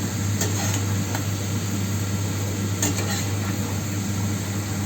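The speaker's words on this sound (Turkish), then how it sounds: "Evet şimdi patateslerimiz kızarıyor." Potatoes frying in a pan give a steady, close sizzle under a constant low hum, with a few faint scrapes or clinks now and then and no voices.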